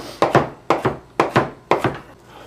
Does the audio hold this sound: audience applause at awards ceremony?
no